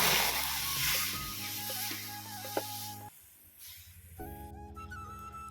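Water hits a pan of fried mung dal cooking over a wood fire, giving a soft, steady sizzling hiss that fades after a few seconds amid quiet tonal background sounds.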